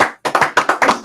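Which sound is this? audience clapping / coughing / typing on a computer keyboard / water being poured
audience clapping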